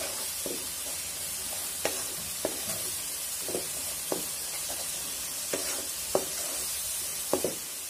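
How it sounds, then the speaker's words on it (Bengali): Spice masala is stir-fried in a pan with a continuous soft sizzle, broken by a few light, sharp clicks of a spatula scraping the pan. "এবারে মশলাটা 4-5 মিনিট সময় নিয়ে ভালোভাবে কষিয়ে নিতে হবে।"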